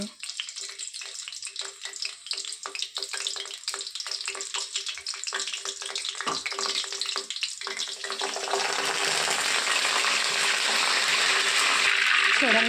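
Green chillies drop into hot oil in a home kitchen, first with scattered crackles and clicks, then a loud, steady sizzle that builds and holds to the end.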